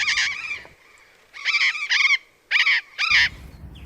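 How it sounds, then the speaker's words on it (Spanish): Native parrots in captivity at an aviary give several loud, harsh squawking calls, three bursts of paired calls in close succession with short quiet gaps between, near and clear. "Loros nativos."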